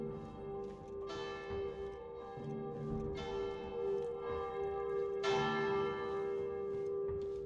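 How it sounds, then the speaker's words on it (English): A church bell rings loud and sustained in the Sniper Elite: Resistance video game, its steady overlapping tones swelling with repeated strikes across the whole stretch. "We're coming down with that bell, it's loud!"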